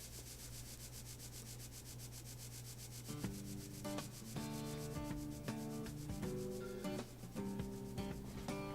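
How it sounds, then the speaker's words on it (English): Workers in the video game Smooth Operators scrub steadily, a continuous rubbing noise under a low hum, joined partway through by soft tonal game music. "And these guys are just scrubbing away."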